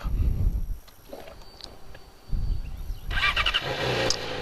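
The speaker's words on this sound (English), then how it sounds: "let's turn the bike on and see if we can give that a shot" Motorcycle being started: a short mechanical whir and clatter, a quiet pause with faint clicks, then the engine catches and runs with a rough, broadband rumble that holds to the end.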